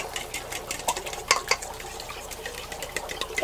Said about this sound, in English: You just mix it up.